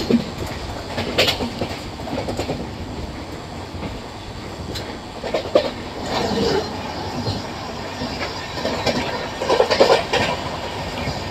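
The Janmabhoomi Superfast Express rolls along the rails as it crosses the Visakha Express, giving a steady loud rumble with rhythmic clickety-clack wheel beats and occasional metallic squeals throughout.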